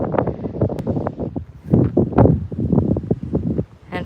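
Warm, gusty wind blows outdoors among purple flowers, rushing and buffeting the microphone in uneven surges that rise and fall over a few seconds.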